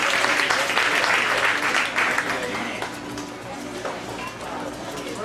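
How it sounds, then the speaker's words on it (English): Audience applause at a mentalism show fills the room with dense, loud clapping that gradually thins and softens toward the end, with a few voices mixed in. "Everybody give Mercer a big round of applause"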